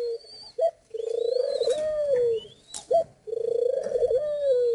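At a bird breeding farm, a mother pigeon feeds its chick by regurgitating food. Close, loud, wavering coos repeat in bursts, broken by brief higher squeaks, with no talking.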